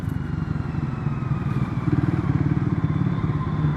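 A Triumph Scrambler 400 XC single-cylinder motorcycle rolls along at slow speed, its low engine thrumming steadily with a fast even pulse and slight rise in intensity, with no one talking.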